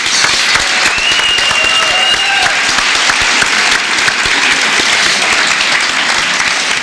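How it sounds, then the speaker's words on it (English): Loud, steady applause from a large audience at a Lin-Wood High School Class of 2018 graduation ceremony, a dense wash of clapping that holds evenly throughout with faint background voices. "You can applaud if you like."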